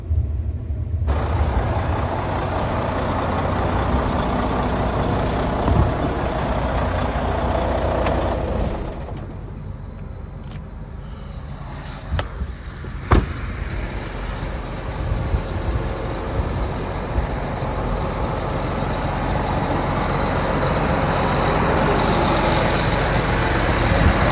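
A semi truck tractor pulls away, a loud, steady diesel engine rumble that rises and holds over time, with a brief hiss like an air brake release and a few sharp clanks partway through, and no talking.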